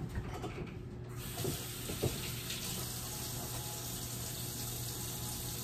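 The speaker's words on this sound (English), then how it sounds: "Now let me wash my hands real quick," Sink tap water runs steadily while hands are washed after handling eggs in a home kitchen, a constant close rushing stream with a few faint knocks early on.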